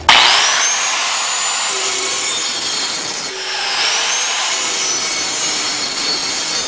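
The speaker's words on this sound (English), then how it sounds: "If you hold the grinder on the blade like this and stroke it with the back side of the wheel" An angle grinder's wheel is stroked along a Briggs & Stratton lawnmower blade to sharpen it, giving a steady, close, high-pitched grinding rasp that runs continuously with a brief dip partway through and no talking.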